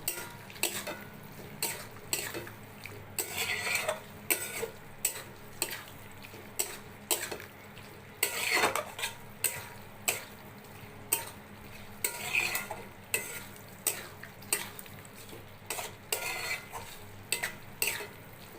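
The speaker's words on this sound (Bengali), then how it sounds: "দিয়ে দেব এবার ভালোভাবে কাজু পোস্ত চারমগজ বাটাটা মিলিয়ে দেবো" A spoon stirs a thick paste of ground cashew, poppy seed and melon seed into a paneer and vegetable curry in a pan. Repeated scraping clinks and strokes come close and steady, with a soft sizzle underneath and no talking.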